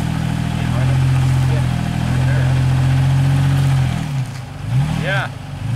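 An off-road vehicle crawling over boulders, its engine running at a low, steady idle close by before the revs dip and waver; people talk over it.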